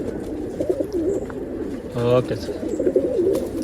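Rekdhar pigeons coo softly in a bird-sale setting in Bangalore, repeated low throaty coos near the start and end, with a voice briefly talking in between.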